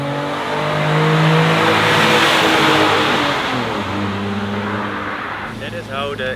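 A Lancia Ypsilon car accelerates past from outside, its engine swelling loud and close before fading as it drives away, with some talk underneath.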